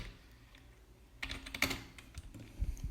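Keys clatter on a computer keyboard as a terminal command is entered, a few faint taps and then a quick burst of louder clicks, close up and without talk.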